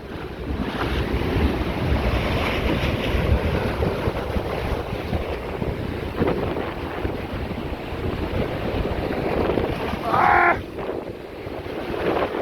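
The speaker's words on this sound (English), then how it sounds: "You just hear the sea." Constant roar of surf and wind noise buffeting the microphone at the Blackpool seafront, with waves washing in steadily throughout.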